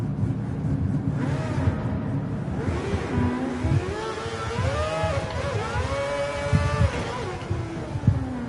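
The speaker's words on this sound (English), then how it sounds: "the way the car sounds right now, with it sitting idle, it doesn't sound like something that'll scream the way it does" Mazda 787B race car in Gran Turismo 7, its engine idling with a steady, rough low drone and a few wavering tonal rises, with faint talk in the background.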